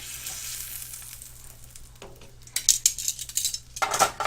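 A Philly cheesesteak grilled cheese sandwich frying in a pan, steady faint sizzle that swells into louder crackling bursts as it goes on, with a few clinks of utensils.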